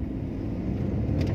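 A 2014 BMW F30 320i Sport heard from inside the cabin as the driver presses the gas, a steady, loud low engine and road rumble building slightly toward the end.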